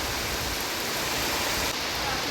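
Very heavy rain pours down outside a room at Dawaipani in Darjeeling, a dense, loud, unbroken hiss that stays constant throughout.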